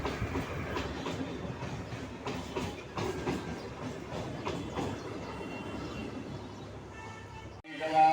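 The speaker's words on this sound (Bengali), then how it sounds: "এই ট্রেনটা যাচ্ছে পরবর্তী স্টেশন বিবাদী বাগের দিকে" Kolkata local train heading toward BBD Bag station, a moderate continuous rumble with rhythmic clickety-clack of wheels over rail joints, cutting off abruptly near the end.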